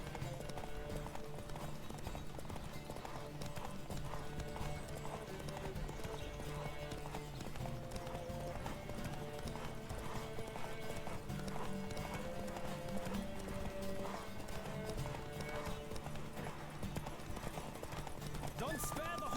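In The Witcher 3: Wild Hunt, a horse gallops flat out in a race, its rapid hoofbeats drumming continuously beneath music, with occasional whinnies and a voice speaking over the action.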